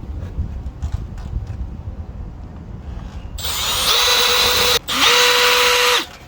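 A power drill drives screws to mount a solar street light, whining loudly and close in two steady runs with a brief pause between, after a stretch of outdoor background noise.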